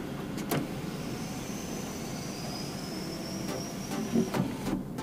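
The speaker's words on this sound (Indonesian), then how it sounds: "mobilnya udah dilengkapi dengan si sunroof atau moonroof atau kira-kira kayak gitulah, elektrik" Electric sunroof motor on a small turbocharged hot hatchback, a faint steady whirring hum under a quiet cabin background with a few soft clicks near the end.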